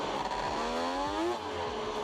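A loud game engine rises sharply in pitch through a hard acceleration, then drops with a gear change and climbs again, with low thumps underneath and no talking.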